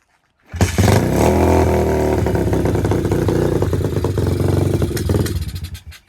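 An Apollo RFZ pit bike engine catches after a brief silence, then runs loud and close with a rough, uneven idle and slight revving for about five seconds before cutting off.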